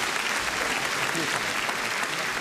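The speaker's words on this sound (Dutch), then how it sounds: "Geef hem nog een enorm applaus" Sustained applause from a large audience at a local broadcast event, dense steady clapping heard alone at even volume throughout.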